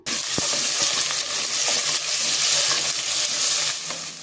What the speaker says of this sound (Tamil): இதோட கொஞ்சம் கருவேப்பிலை, நீல வாக்கில் அரிஞ்சிருக்க பெரிய வெங்காயத்தை சேர்த்து நல்லா வதக்கிக்கணும்